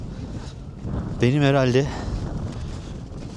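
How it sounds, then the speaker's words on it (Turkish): Strong Arctic wind buffets the microphone with a steady, rumbling broadband roar throughout, while someone speaks briefly in the middle. "Çok aşırı derecede bir rüzgar var"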